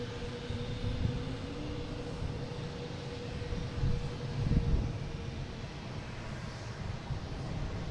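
A Delta airliner's engines rumble at Boston Logan airport, a low, steady drone swelling slightly midway, heard at a distance without speech.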